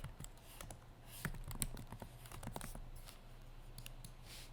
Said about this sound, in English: And I'll just type in endangered.